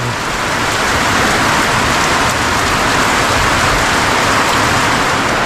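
Steady rain pours down in a forest, a dense, continuous hiss of drops falling without pause, loud and close throughout with no voices.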